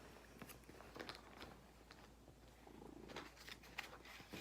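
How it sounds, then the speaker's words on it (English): A cat purrs loudly and close by in a steady rumbling drone, with small crackling rustles on top and no talking. "you are purring so loud"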